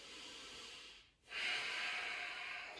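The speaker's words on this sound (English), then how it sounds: "Keep breathing." Slow yoga breathing while holding a crescent lunge: a soft drawn breath, a short pause, then a longer, stronger airy exhale, close to the microphone and with no talk.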